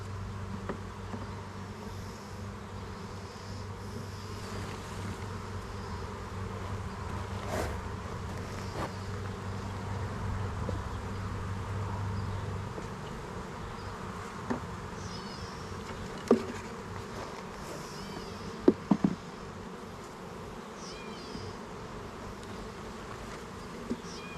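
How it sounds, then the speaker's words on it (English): Honeybees in a nuc hive buzz steadily and softly up close, a continuous insect drone with a few light knocks and clicks near the end. "there is some bees in there"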